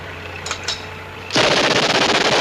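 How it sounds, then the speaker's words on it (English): Quiet room tone and two soft knocks, then a loud sustained burst of close machine gun fire erupts in a World War II TV drama and keeps going to the end. "Machine gun squad, prepare to withdraw. Keep firing!"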